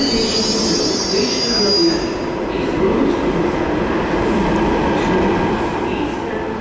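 A train rumbles past at close range, a loud steady roar of wheels on rails with a brief high squeal near the start, continuing without a break and with no talk over it.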